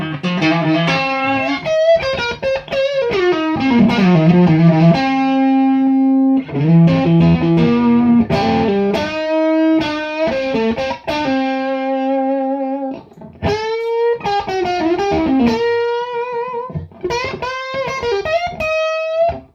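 Electric guitar through an Xotic BB overdrive preamp plays a bluesy phrase of bends, sustained notes and short licks, warm and slightly gritty, with brief pauses between lines.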